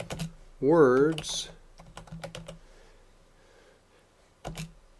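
Computer keyboard keys clicking in quick bursts during word entry, close and moderately loud, with someone speaking over parts of it.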